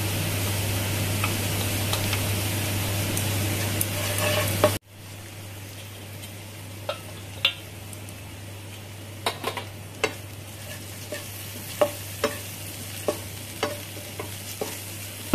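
Lightly browned onions with spices fry in a pan, a loud steady sizzle over a low hum that drops abruptly quieter partway through, then continues with scattered sharp spatula clicks and scrapes against the pan.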